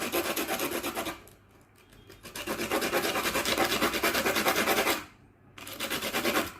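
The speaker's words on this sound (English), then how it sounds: "We have to just rub it with sandpaper from one side." Sandpaper rubbed back and forth against one side of a small metal nut, a rapid rasping scrape in steady strokes, close and fairly loud, pausing briefly twice before resuming.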